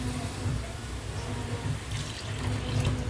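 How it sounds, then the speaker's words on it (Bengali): Water streams steadily from a cup in a home kitchen, a continuous close splashing wash with slight swells near the end. "দিয়ে 1 কাপ জল দিয়ে দিতে হবে"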